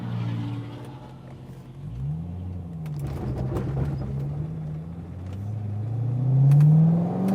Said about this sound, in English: Like the idle, for example. It is rather rough, and sometimes it does feel like it's misfiring, but it is a really big V8